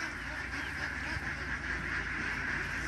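A large flock of laying ducks quacks in a dense, constant chorus that blends into a steady wall of sound with no pauses and no talk.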